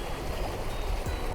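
Mineral-rich water runs over the white travertine terraces at Pamukkale, a steady close wash of flowing and trickling water with no voices.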